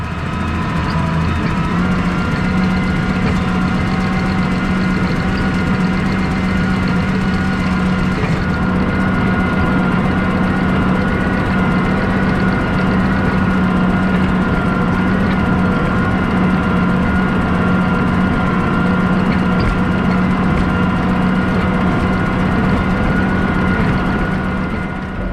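An old H tractor engine runs steadily in a hay field, with a continuous low, even drone and no pauses or talk.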